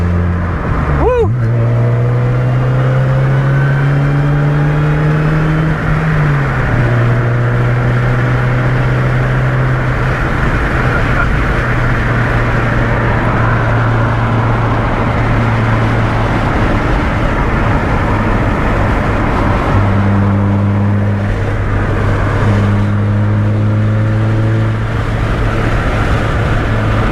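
A supercharged Chevy Cobalt SS that has been lowered drives and accelerates, its engine droning loud and close with rising and falling pitch as it shifts, while people talk over it inside the car.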